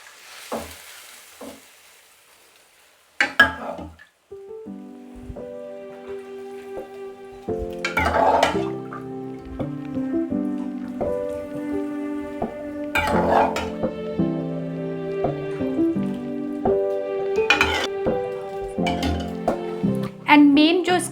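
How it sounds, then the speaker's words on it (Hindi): Lassi is stirred into a hot sizzling tempering for Himachali Kheru: a steady sizzle and spatter broken by repeated ladle clinks against the pot, close and fairly loud, with a voice speaking at times over the cooking. "जैसे ही आप लस्सी को या दही को तड़के में डालते हो तो आपको उसको कंटिन्यू जो है वो हिलाना पड़ता है"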